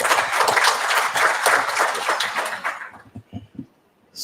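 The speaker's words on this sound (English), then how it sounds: "Let's give a round of applause." The audience at a plenary lecture session breaks into loud, dense applause, which holds for about three seconds and then thins into a few scattered claps.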